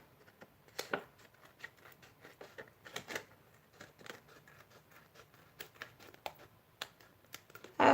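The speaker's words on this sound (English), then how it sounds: "let's go and cut around our weekly recap page" Scissors cut around a paper planner dashboard page with quick, irregular snips and crisp rustling. The sounds are close but faint, with short pauses between bursts and no talking.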